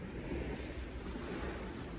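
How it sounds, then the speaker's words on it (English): Ocean waves washing steadily as a nature soundscape, a continuous broad rush of surf with faint wind, no voices present. "These can be sounds such as ocean waves,"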